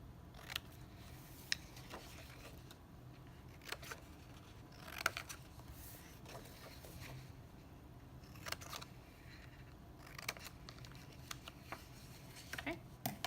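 Scissors snip corners off a paper book jacket in a bookmaking studio, giving a scattering of soft, close cutting clicks over a quiet background with no talk.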